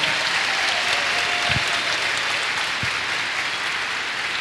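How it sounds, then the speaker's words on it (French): An audience applauding at a Spiritist congress, dense sustained clapping from many hands filling the room at an even level, with a couple of louder thumps in the mix. "On peut applaudir cette fantastique équipe."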